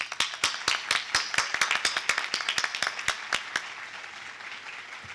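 An audience at a motivational address breaks into brisk applause, many hands clapping loudly before it thins out and fades.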